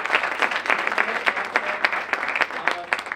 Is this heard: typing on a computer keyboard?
no